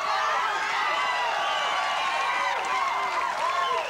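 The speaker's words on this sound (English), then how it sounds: "All of you were applauding." Studio audience on The Price is Right applauding and cheering, a dense, steady wash of clapping and voices at full level throughout.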